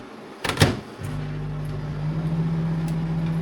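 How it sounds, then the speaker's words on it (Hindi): A microwave oven warming pasta topped with cheese, starting with a couple of clunks from the door or buttons and then a steady, loud electric hum that runs to the end, with no one speaking. "और हल्का सा माइक्रोवेव भी कर ही देते हैं"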